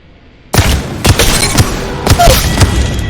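Wingman revolver shots in a video game, a rapid run of five loud, sharp reports about half a second apart, each with a booming low thump and a short ringing tail.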